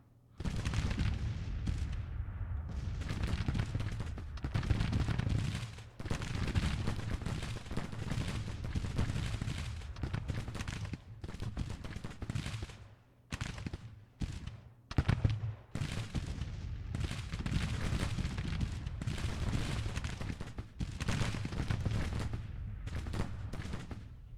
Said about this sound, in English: brought these guns up though, at least they're firing